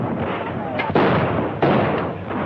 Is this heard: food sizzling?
no